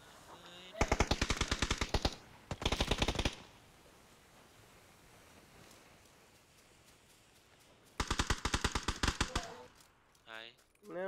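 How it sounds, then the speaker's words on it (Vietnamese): Rapid automatic gunfire from a video game rattles out in loud sustained bursts, three long volleys separated by lulls, with a brief voice near the end. "Xuống bắn nè em."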